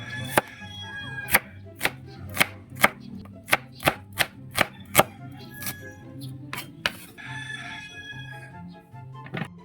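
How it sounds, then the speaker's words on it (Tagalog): A knife chops onion on a board in about a dozen crisp, evenly spaced strikes over a low background hum, and a rooster crows faintly in the distance. "Mga tambay, iwa tayo ng sibuyas."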